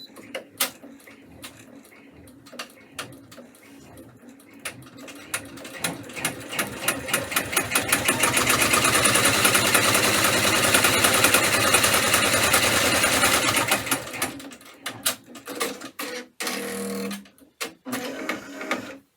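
A home embroidery machine stitches in rapid clattering bursts that build into a loud sustained run, then slows to scattered ticks and short whirs near the end.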